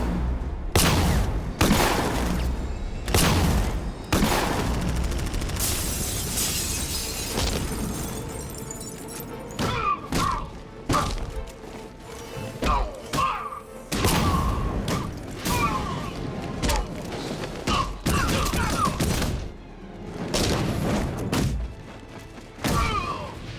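In Batman: Arkham Knight, loud, irregular gunfire is mixed with crashing, shattering impacts, thuds, and mechanical clatter, forming a busy and chaotic stretch of action.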